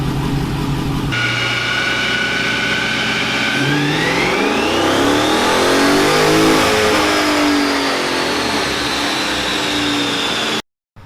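A car engine on a dynamometer revs hard and continuously, its pitch climbing steadily through a loud sustained pull before cutting off abruptly near the end.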